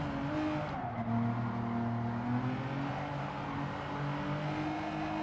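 A car engine drones steadily while driving in Gran Turismo 7 during a rain race, with a sustained mid-pitched hum that rises and falls slightly as it accelerates, plus a brief tire-squeal-like smear near the start.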